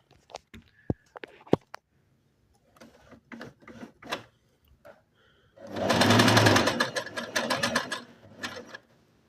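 A Singer Inspiration sewing machine stitching with a twin needle at half width: scattered clicks and handling noises first, then a loud, steady, rapid mechanical whirring run of about three seconds, close by.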